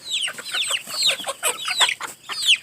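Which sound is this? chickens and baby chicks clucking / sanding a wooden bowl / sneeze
chickens and baby chicks clucking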